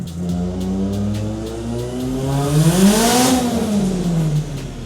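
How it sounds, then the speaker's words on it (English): A Nissan S13 240SX engine revs hard on a dyno in fourth gear, loud rising harmonic whine peaking then falling back, with the wet rear tires spinning and hissing against the rollers. "It's not supposed to spin on the dyno like that."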